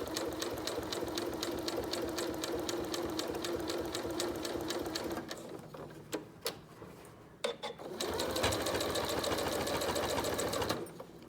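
A sewing machine stitches fabric for a face mask in fast, even bursts, pauses briefly with a few clicks and handling sounds, then resumes stitching steadily.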